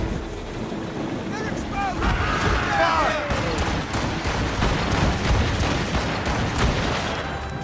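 Ship cannon volley booming across the water in the Assassin's Creed Rogue naval battle, a dense spread of rumbling blasts amid wind, waves and shouted crew voices.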